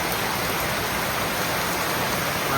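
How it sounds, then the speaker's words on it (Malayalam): Heavy rain pours down in a continuous, dense, loud hiss with no pauses or voices, sounding close and steady throughout. "ഇവിടെ ഭയങ്കര മഴ പെയ്തുകൊണ്ടിരിക്കുകയാണ്"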